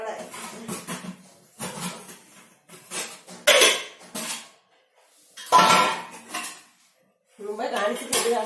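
An idli steamer pot is handled in a home kitchen, giving intermittent metallic clanks and clatter in short bursts while a person talks between them.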